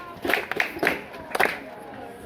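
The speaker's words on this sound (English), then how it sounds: "Good, clap for her." A classroom of students claps for a classmate, a few sparse, uneven handclaps at moderate distance, fairly faint and short-lived.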